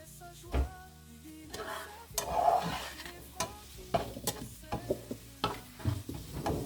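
Onions frying in a pan for an endive and leek fondue give a soft sizzle, broken by several sharp clinks and scrapes of a utensil against the pan.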